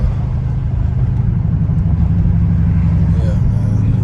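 A straight-piped Dodge Charger RT drives on the highway, its exhaust a loud, deep, continuous drone heard from inside the car.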